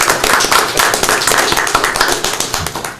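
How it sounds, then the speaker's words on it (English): Scattered applause from a small audience at a county board meeting, individual claps distinct and uneven, close and fairly loud, tapering slightly toward the end. "I think deserves a round of applause."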